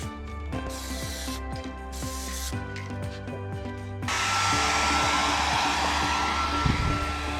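A spray gun lays thin paint coats on a repaired frame member of a wrecked Mazda CX-5, starting with a droning, whining compressor hum, then switching to a loud, continuous hissing spray burst up close.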